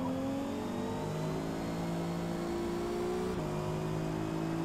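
A new Aston Martin sports car engine in the video game Forza Motorsport revs and drones steadily, its pitch climbing in gear-like steps, with a brief drop midway before rising again.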